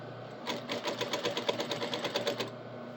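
A sewing machine runs a long straight trouser seam without backstitching, its needle chattering in a fast, steady rhythm for about two seconds, close and fairly quiet, with no talking.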